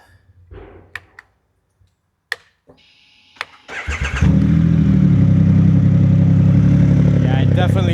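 A 2025 Triumph Rocket 3 R motorcycle with a Storm Werkes exhaust starts up from about 50 centimetres away: a few quiet clicks and whirs, then the engine catches and settles into a loud, steady, deep roar.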